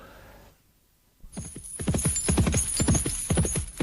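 A horse from an abbey stable sets off, hooves clip-clopping in a steady, quickening rhythm on a hard surface after a brief hush, close and clear, with no talking.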